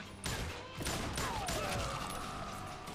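Gunshots crack in the Western shooter Call of Juarez: Gunslinger, a couple of fairly quiet blasts followed by a ringing, whistling tail and steady background noise.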